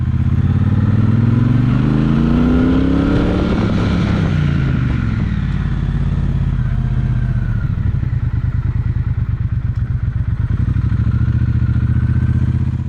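A motorcycle is ridden on a road: its engine roars loudly and continuously, the revs climb then drop as the bike brakes, then build again as it accelerates away.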